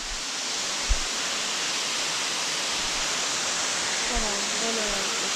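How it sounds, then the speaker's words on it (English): A waterfall in Puerto Rico roars as a steady, broad rush of falling water throughout, with a couple of faint low knocks and a brief murmur of nearby voices under the noise. "Look at that waterfall."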